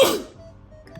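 One sharp sneeze bursts out loud and close at the start, then fades into a quiet room with faint background hum.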